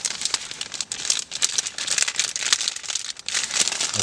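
Eurohike Ribble 2 tent fabric crinkles and rustles steadily as it is folded over and rolled up by hand, close and continuous with brief pauses, and no talking.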